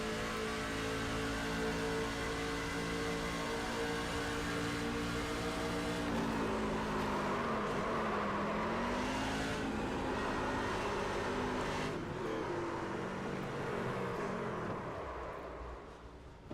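An onboard race car engine at full throttle at Pocono Raceway roars loud and close, its harmonics holding steady, dipping and climbing again, then tapering off near the end, with no talk over it.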